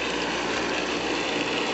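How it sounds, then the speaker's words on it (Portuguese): A water pump runs at a brick-lined Amazonas well in the dry backcountry, pumping for irrigation. It makes a continuous, even mechanical hum with no break and no speech. "Aqui tem uma bomba que está funcionando aqui, porque estão irrigando a parte de cima."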